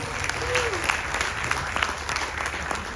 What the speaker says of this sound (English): Please give Panaji a round of applause.